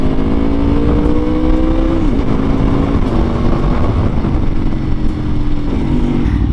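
A 2022 Aprilia RSV4 1100 Factory motorcycle engine runs loud and close with a steady drone whose pitch eases slightly downward and rises again, continuous throughout.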